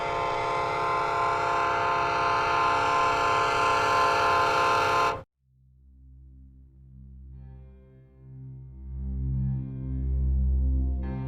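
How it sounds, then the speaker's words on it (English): A Canadian Pacific Railway train gives a long, loud horn blast lasting several seconds that cuts off sharply, followed by a deep, swelling rumble of the train rolling along. "Swamiji boarded a Canadian Pacific Railway train towards his final destination, the city of Chicago"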